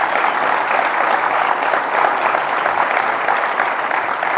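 An audience applauds at a club meeting, dense steady clapping that is loud and continuous throughout.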